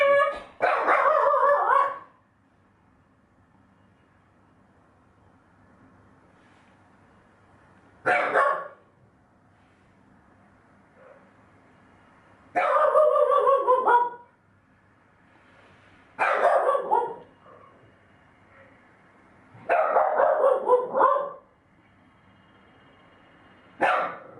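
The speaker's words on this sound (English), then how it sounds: "interrupted by Harvey having a little barking fit at the dog next door." A dog bursts into bouts of barking at the neighbouring dog: five or six separate volleys of rapid barks, each a second or two long, with quiet gaps between them and no talking.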